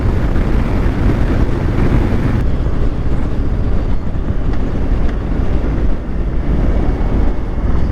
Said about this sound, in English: I feel like I'm taking quite a bit more wind on the Street Bob than I was on the Sportster S